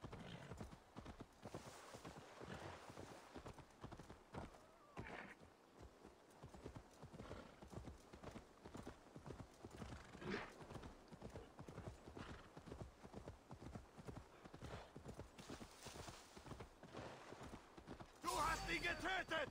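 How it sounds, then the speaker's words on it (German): Horse hooves clip-clop in a steady rhythm through Assassin's Creed Valhalla gameplay, continuous and fairly close, with speech and game sounds mixed over the hoofbeats and a louder burst near the end. "Wie mein Pferd hier überall hinkommt, ist mir ja auch immer noch ein Rätsel."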